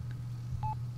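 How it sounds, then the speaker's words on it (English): A phone in The Sims 3 rings with a short electronic tone over a low steady hum, a brief faint chirp followed by a clearer beep near the end. "her phone's ringing"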